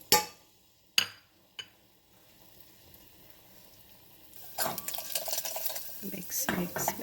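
A spoon scrapes and stirs garlic in hot oil inside a pot already used for tempering dal, with a few sharp clinks against the metal rim before loud, close sizzling and scraping takes over.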